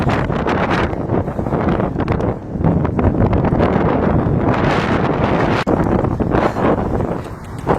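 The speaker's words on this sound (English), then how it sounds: "But that is a serious wind." Strong wind buffets the microphone on an outdoor walk near a park, a loud continuous roaring rush with gusty swells and no talk.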